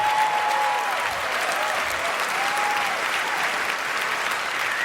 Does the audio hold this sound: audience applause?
yes